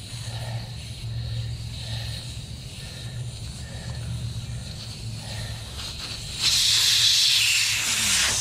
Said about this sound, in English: And we're removing the valve stem.